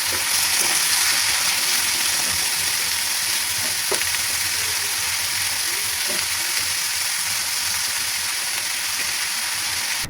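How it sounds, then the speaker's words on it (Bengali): Bitter gourd and potatoes fry in hot oil with a steady, loud sizzle that fills the whole stretch, broken by a few small crackles and pops. "আমি করলা আর আলুগুলো হচ্ছে তেলের মধ্যে দিয়ে দিয়েছি।"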